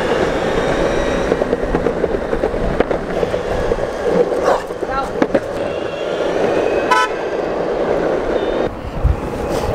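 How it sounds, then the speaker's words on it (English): A car horn honks briefly in city traffic, a short tonal toot standing out over steady road noise and passing vehicles, with people talking nearby inside a moving car. "If you just heard that honking, that was Kelly."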